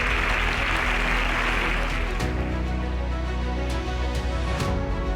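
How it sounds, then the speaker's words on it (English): Audience clapping at the grand finale of a national science competition in Nigeria, dense applause that tapers off after about two seconds, leaving a few scattered claps over a low background hum. "It's a round of applause for that."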